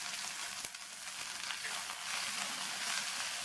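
Curry leaves, mint and coriander leaves sauté in a pan for a chutney, giving a soft, continuous hissing sizzle with a few faint stirring clicks and no talk.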